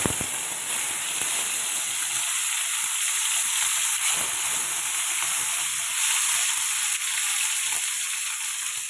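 Tomato frying in oil over a cumin-seed tempering for a vegetable khichuri, a loud, continuous close hiss and crackle with occasional stirring clicks.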